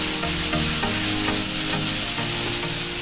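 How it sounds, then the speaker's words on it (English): Spaetzle sautéed in hot bacon drippings sizzles steadily and loudly up close, with utensils stirring and scraping the pan throughout, and no one talking. "we're going to just quickly saute the spetzel"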